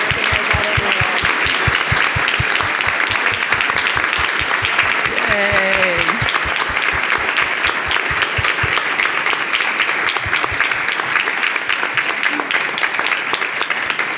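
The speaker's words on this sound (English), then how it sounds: "So please join me in standing up and giving a round of applause for Ellen Hannock." Standing audience at a California water policy event giving loud, sustained applause, a dense continuous roar of clapping with brief voices heard underneath.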